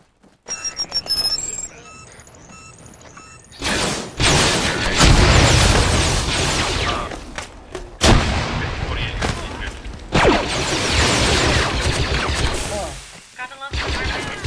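ArmA combat brings sharp gunshots and heavy explosive booms in dense, uneven bursts, loud and near, following a brief electronic beeping at the start, with occasional voices.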